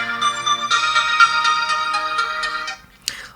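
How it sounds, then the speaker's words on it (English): An Android phone's alarm ringtone plays loud and close as a bright melodic electronic tune for about three seconds, then cuts off abruptly with a brief sliding tone at the end. "Also here we can customize alarm sound."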